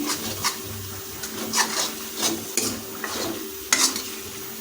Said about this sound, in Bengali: লঙ্কা গুঁড়ো হলুদ গুঁড়ো যোগ করার পর আমরা বেশ কিছুক্ষণ এটাকে নাড়িয়ে নিয়েছি